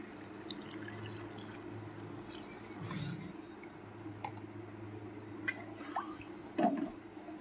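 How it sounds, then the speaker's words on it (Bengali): Water poured into a pan of simmering yogurt chicken masala gives a soft, steady watery trickle with a few faint drips over a low kitchen hum. "এই পর্যায়ে কিন্তু আমি দিয়ে দেব পরিমাণ মতন জল।"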